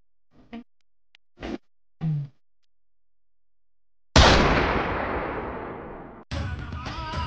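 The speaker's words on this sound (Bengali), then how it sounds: "গুলির আওয়াজ না?" A sudden loud gunshot-style blast cuts in after a few short vocal bursts, decaying over about two seconds before a second sharp report follows, standing alone without overlapping talk.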